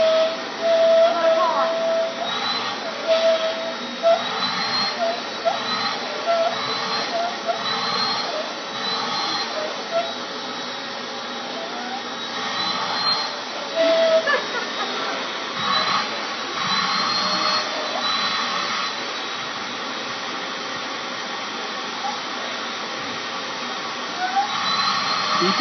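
A vacuum cleaner runs over a cat with a continuous loud whine and rushing air, fluctuating slightly as it moves, while people talk over it throughout.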